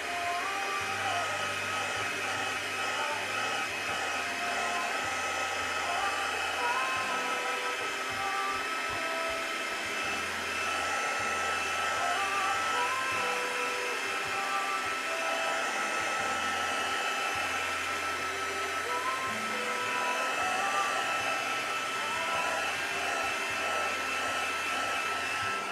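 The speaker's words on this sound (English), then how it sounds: "and then I get my heat gun" Heat gun drying paint on a lettering craft project, a steady close blowing hiss and motor hum running continuously throughout with no talk.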